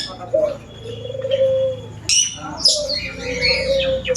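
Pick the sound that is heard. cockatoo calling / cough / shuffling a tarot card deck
cockatoo calling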